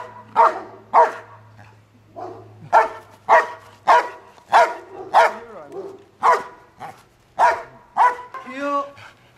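A trained police bodyguard dog barks loudly and close by, about a dozen sharp, evenly spaced barks ending in a whining yelp, with no voices over them.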